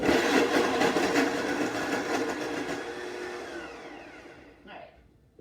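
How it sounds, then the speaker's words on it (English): A blender purees a large tomato for watermelon gazpacho, its loud steady motor whir running for several seconds and then slowing and winding down to a stop, with no talk over it. "And we'll just give this a quick puree."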